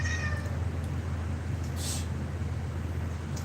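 A cat meows a few times near the start of an outdoor livestream, its high wavering calls rising over a steady low hum of traffic or engine noise that runs throughout.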